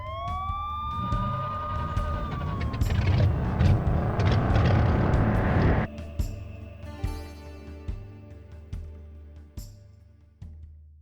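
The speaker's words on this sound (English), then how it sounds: "The police car catches you off guard" A police car siren wails in the driving game Heading Out, rising and falling loudly over rumbling engine noise for several seconds before cutting off, followed by sharp intermittent thuds and a steady low hum.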